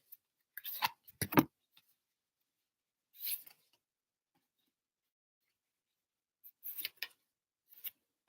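Oracle cards pulled one at a time from a deck, giving quiet, brief papery snaps and slides in a few separate clusters with silence between, and no talking.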